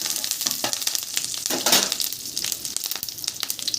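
Curry leaves spluttering in hot oil after tempered spices, a bright crackling sizzle with brisk stirring scrapes and a louder burst midway, up close with no talking.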